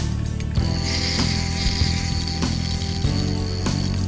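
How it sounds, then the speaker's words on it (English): New fishing line ticks and whirs steadily off a reel drag as a buffalo fish runs in Arkansas, a continuous mechanical buzz with periodic clicks over the whole stretch. "Listen to that brand new line sing."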